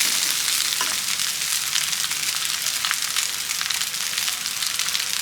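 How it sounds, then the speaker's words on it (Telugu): Cooked rice with ajwain sizzles steadily in hot oil in a pan, a close, bright, continuous crackle with occasional stirring scrapes and no voices. "ఒక 2 నిమిషాల పాటు ఈ అన్నాన్ని నూనెలో ఇలా మంచిగా ఫ్రై అవ్వనివ్వాలి."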